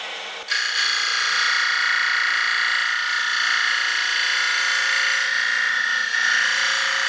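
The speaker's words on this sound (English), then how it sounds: "I use a belt sander" A belt sander grinding the edge of a woodturning tool, a steady high-pitched abrasive whine that starts abruptly and holds on close and continuous.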